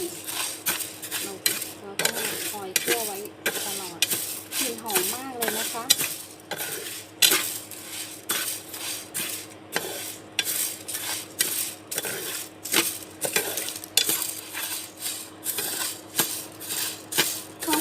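Sticky rice dry-roasting in a pan, stirred with steady rhythmic scrapes and clinks of a utensil against metal, repeating about twice a second, close up with a faint dry rustle of grains and no talk.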